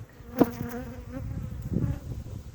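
Honey bees buzz steadily around an open hive during an apiary inspection of frames with capped honey. The drone stays close and continuous, with a sharp knock near the start and a softer bump later.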